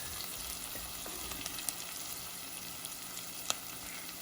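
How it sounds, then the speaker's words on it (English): Whole spices toast in a hot pan for a butter chicken dish, giving a steady close sizzle and crackle with a few sharp pops, no voices. "Let them toast because the spices, as they heat, start to release their oils."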